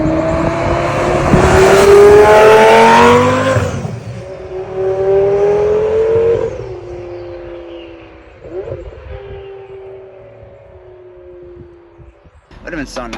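A car drives along a highway, its engine note rising and falling through loud acceleration and then easing off into quieter road noise, with a brief passing whoosh near the end.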